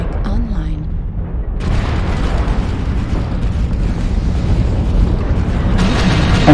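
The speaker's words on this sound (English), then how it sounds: "Artillery strike online." Artillery strike explosions in a video game roll in as a heavy, continuous rumbling barrage, loud and sustained after a brief quieter opening, with booming blasts layered over one another.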